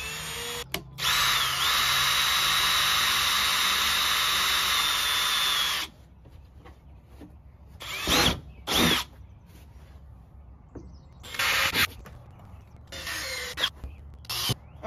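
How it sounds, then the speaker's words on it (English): A power drill bores holes into the corners of an EZGO golf cart panel during a light kit install. There is one loud, steady whine lasting about five seconds, then quiet broken by a few short bursts of handling noise. "So I'm going to drill a couple holes right in the corners where it might be hard to turn."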